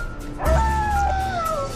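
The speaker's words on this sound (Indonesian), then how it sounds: "Suara lolongan apa itu?" A dog or wolf howls in a forest, a single drawn-out wavering cry that rises then slowly falls over a low rumbling background, fairly close and clear, with no talking.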